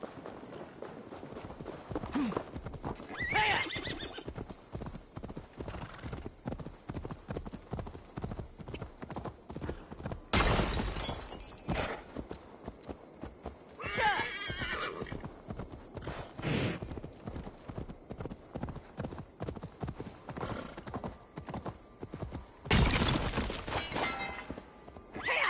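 A horse gallops in the video game Assassin's Creed Valhalla, its hooves clip-clopping in a fast steady rhythm with occasional neighs and bursts of louder noise, while someone talks quietly at times.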